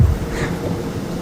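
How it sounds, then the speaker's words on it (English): Thunder during a heavy thunderstorm, a brief, loud, low rumble rolling steadily under the hiss of hard rain. "It's really raining really hard. It's thundering."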